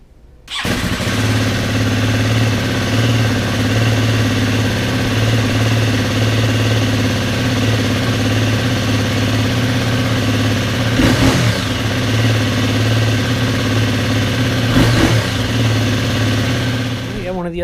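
A 2018 KTM 250 EXC-F dirt bike fires up and settles into a loud, close, steady idle, with a couple of brief throttle blips breaking the even burble.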